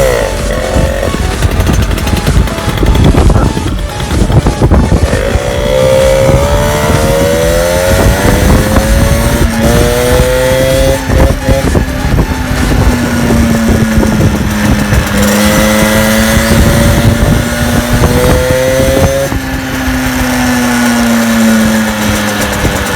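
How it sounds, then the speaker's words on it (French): A moped engine runs loud and close throughout a ride on the road, its buzzing pitch rising and falling as the rider speeds up and eases off, with no talking over it. "Je démarre la mob et puis voilà"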